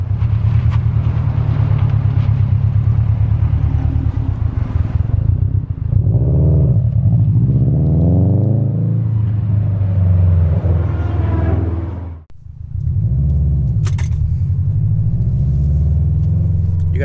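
A 2018 Subaru WRX STI with its 2.5 liter EJ boxer engine idles with a loud, close, lumpy rumble, blipping the throttle into a couple of rising revs and a brief dip before settling back to a steady burble.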